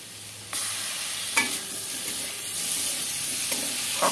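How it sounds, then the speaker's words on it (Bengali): Tomato hits a pan of frying spice paste with garlic, giving a steady close sizzle with brief stirring scrapes and no voices. "এবার আমি একটু টমেটো দিয়ে দেবো।"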